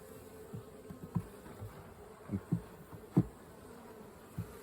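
Honeybees in an open beehive during a spring check, a faint, low buzzing with scattered soft thumps and knocks close by and no voices.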